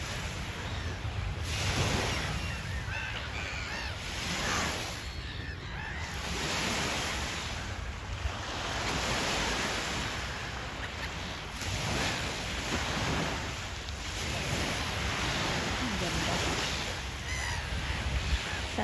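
Surf washes in and out in broad swells, steady and close, with occasional bird calls faintly over the water noise.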